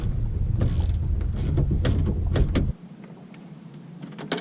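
Bolts being tightened on the exterior door handle of a 2011-2016 Ford F250 pickup, giving a run of close mechanical ratcheting clicks and creaks over a low hum that stops abruptly near the end, leaving quiet.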